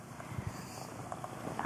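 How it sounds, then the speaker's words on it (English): A female cat purrs softly and steadily close by while being petted and having her belly rubbed, a low, faint, continuous rumble with no talking over it. "you got such a nice purr"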